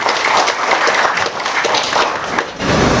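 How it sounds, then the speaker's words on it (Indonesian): A crowd of Viking Karawang football supporters at an indoor stage gathering breaks into loud, dense applause, a continuous wash of clapping that dips briefly and surges again near the end. "Tepuk tangan buat kita semua Viking Karawang."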